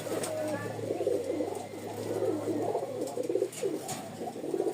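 Lal Sundori pigeons cooing in a steady, throaty, rolling murmur close by, continuous throughout, with someone talking over the birds.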